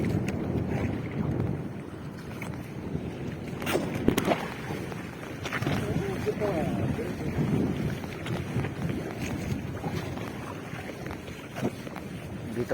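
Steady blustery wind roars against the microphone, with low rumbling gusts and occasional thumps throughout.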